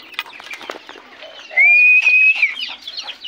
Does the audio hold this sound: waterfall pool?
no